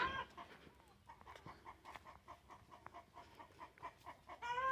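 Chicks and chickens on a backyard farm clucking in a quick, repeated rhythm, faint and close, without talk.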